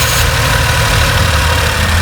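From outside, a new Tata Nexon petrol engine idles close and loud in a steady, even drone with a fine vibrating texture, unbroken for the whole short stretch.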